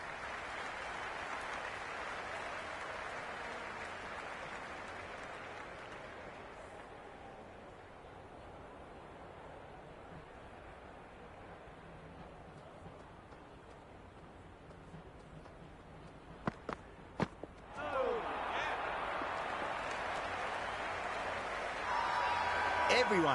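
A virtual stadium crowd roars in the Cric 26 cricket video game: a broad, steady wash of cheering that eases into a quieter lull, a few sharp knocks, then swells loudly again toward the end.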